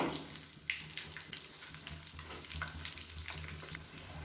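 Poha and potato snack deep-frying in hot oil, a soft steady bubbling sizzle with light clinks, fairly faint and continuous, no talking.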